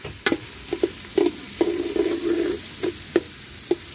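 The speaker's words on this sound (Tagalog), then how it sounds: "Gisa-gisa lang tayo. Luluto tayo ng adobong pork." Pork for adobo sautés in a pan, with soft sizzling and a series of scraping, clacking spatula stirs in an irregular rhythm, close and moderately quiet, with no voices.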